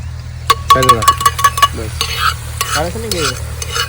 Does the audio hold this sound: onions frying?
yes